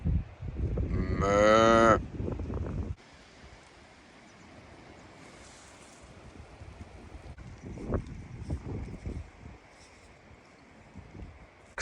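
A single loud, close cow moo rises and falls in the first seconds, then a faint rural background with wind and scattered distant lowing near a pasture enclosed by an electric fence.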